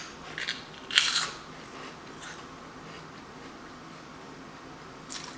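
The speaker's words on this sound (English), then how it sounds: "Epic crunch, right?" Indonesian prawn crackers are bitten with a couple of brief, crisp crunches, one sharp and clear near the start and a fainter one at the end, set against a quiet room hiss.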